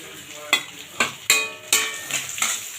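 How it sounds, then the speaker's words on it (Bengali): Peanuts and coconut shreds fry in mustard oil in a wok. A spoon scrapes and stirs in sharp, regular strokes about every half second over a soft background sizzle. "কড়াইতে সর্ষের তেল দিয়েছি। তা প্রথমে আমি এখানে বাদামটা ভেজে নেব।"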